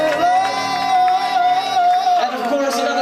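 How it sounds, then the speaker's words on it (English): A crowd of wedding guests at an evening reception cheers for the bride's parents with steady whooping and shouting. It is loud, close and continuous, with sustained voices throughout. "let's get another big round of applause for the parents of the bride this evening"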